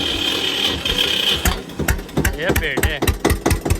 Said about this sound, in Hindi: ये देखा हमारे ट्रैक्टर की आवाज़